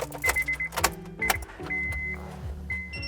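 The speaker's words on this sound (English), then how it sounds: "So I'm gonna go ahead and turn the car on now." A Honda Civic being switched on: a series of short electronic chimes and whirring power-window-like motor sounds, with steady tones stopping and starting at close range in a quiet interior.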